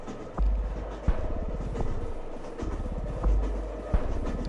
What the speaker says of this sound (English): This train now departing.